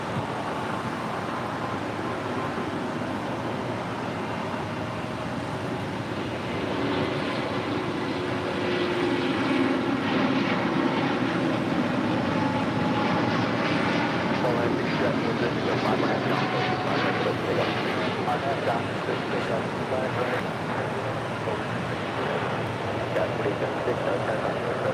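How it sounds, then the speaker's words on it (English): A Southwest Boeing 737-700 airliner roars at LAX, a loud, sustained jet engine drone that swells and holds across the whole stretch. "A little Southwest 737-700,"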